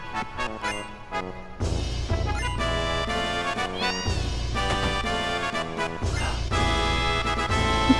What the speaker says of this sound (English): Look at the kitties!